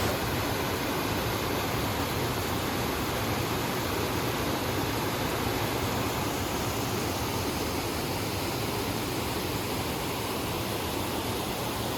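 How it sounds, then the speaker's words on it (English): Small waterfall beside a trail in the Great Smoky Mountains, a steady broadband rush of falling water that stays loud and even throughout, with no voices. "There's a waterfall right here on the side of the"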